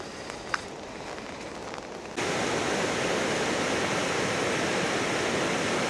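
A loud, steady roar of rushing water swells up abruptly and then holds, dense and continuous, from a nearby waterfall in full flow after heavy rain near Glasgow, Scotland.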